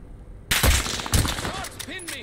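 Gunfire in a shooter game breaks out as a loud burst of rapid shots, followed by a few more cracks and pops with players talking over the action.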